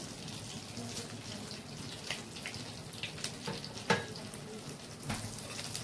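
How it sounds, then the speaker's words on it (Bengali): Bay leaf, dried red chili and panch phoron fry in hot oil for a prawn curry. A soft, steady sizzle runs throughout, broken by occasional light clinks and stirs nearby. "এবার আমি ওই একই তেলে তেজপাতা, শুকনো লঙ্কা আর পাঁচফোড়ন দিয়ে দেব।"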